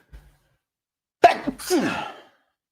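A single sharp sneeze, close and loud, preceded by a brief intake and trailing off into a short breathy tail, otherwise quiet.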